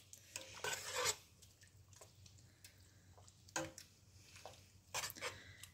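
Homemade mint syrup is stirred in a pot, a spoon scraping and clinking against the metal in irregular, faint strokes with short pauses between.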